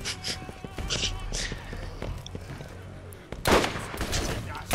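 Rapid gunfire erupts in the Borderlands video game, with a steady stream of shots followed by a louder, denser burst near the end. Faint voices are mixed in underneath.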